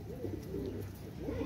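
Pakistani pigeons coo softly in low, rolling phrases that repeat twice in quick succession, faint and close with no talk.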